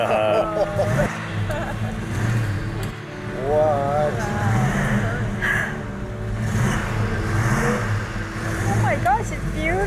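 A 1970 Plymouth Road Runner's engine rumbles and revs in low, throaty swells, fairly close by, while several people talk and exclaim excitedly over it throughout.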